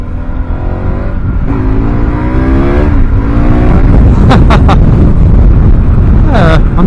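A KTM 1190 Adventure motorcycle on knobby tyres accelerates on asphalt, its engine note climbing through gear changes, loud and close with heavy wind buffeting.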